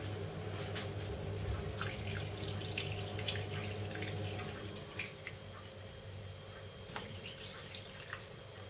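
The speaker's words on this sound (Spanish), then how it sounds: "vamos a añadirle agua hasta cubrir" Warm water pours steadily into a cooking pot of pork cheeks braising in red wine, a continuous splashing, trickling flow, close and fairly loud, with a few drips near the end.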